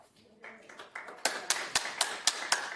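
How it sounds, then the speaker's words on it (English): Scattered hand claps from the audience at a city council meeting build into a steady round of applause, with sharp claps repeating at a brisk, even rhythm and moderately close. "we're gonna ask to hold the applause, please."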